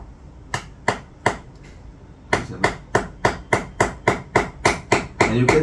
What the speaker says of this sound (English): keep the anchor here and hammer it